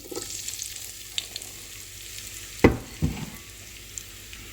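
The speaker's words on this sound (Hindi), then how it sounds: "ऑयल गरम हो गया तो इसमें मैं अब फ्राइज ऐड करूंगी।" Fries being cooked in about one and a half cups of hot oil for a chilli garlic fries recipe, heard as a soft, continuous close sizzle broken by a couple of sharp knocks from a utensil.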